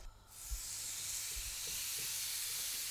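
A steak sears in a very hot pan, a loud sizzle that bursts in almost at once and holds as a steady close hiss, with a couple of soft low thumps early on.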